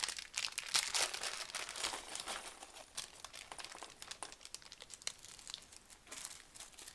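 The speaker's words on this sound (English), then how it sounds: "I'm just going to make all the noise with all the plastic bags." Plastic bags of Lego pieces are handled nearby, giving a continuous, busy crinkling and rustling with sharp crackles throughout, loud and alone.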